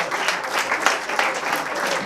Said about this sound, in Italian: Un applauso a Mimmo Herrera che ha accompagnato